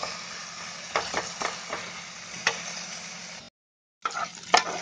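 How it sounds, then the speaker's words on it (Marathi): Onion masala crackles and sizzles in hot oil, a dense continuous fry with sharper pops and spatters scattered through it, stopping briefly before the close sizzle returns. "ते चरचरत आहे ना, ते चरचरायचं जोर थोडं कमी आलं ना मग आपला मसाला भाजला समजायचा"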